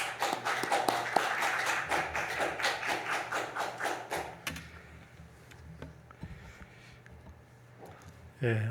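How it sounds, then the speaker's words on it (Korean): A church congregation at a worship service gives loud applause to welcome the pastor. Brisk, dense clapping fills the first four seconds and then stops abruptly, leaving a quiet room with scattered thumps and shuffling. "목사님 나오실 때 우리 큰 박수로 한번 환영하시도록 하겠습니다."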